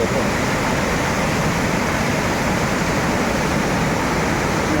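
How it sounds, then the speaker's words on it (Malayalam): Steady, loud rush of a large waterfall near Moolamattam, Kerala, a dense broadband roar that stays constant throughout with no voices. "അനൂര് വെള്ളച്ചാട്ടം വലിയ വെള്ളച്ചാട്ടമാണ്"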